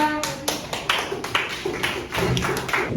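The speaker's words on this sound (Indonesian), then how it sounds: "tepuk tangan untuk ketiga" Classroom applause for a group of pupils, a short burst of quick, uneven claps from a small group of children, with sharp close hand strikes over a few seconds.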